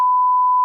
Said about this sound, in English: then I'll put a beep over it